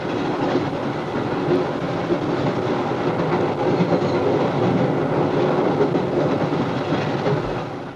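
A train running in the 1972 horror film Horror Express, a loud, steady rolling rumble with clickety-clack from the wheels on the rails, continuous throughout, with no voices.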